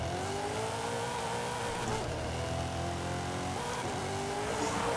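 A Ford Crown Victoria drifting, its tires squealing in long wavering tones over a steady engine drone, loud and continuous throughout with rising and falling pitch as the car slides, no talking.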